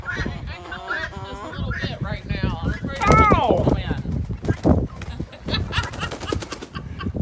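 Several chickens cluck and squawk close by, with a loud honking cry partway through, while a person talks and laughs over them amid wind noise.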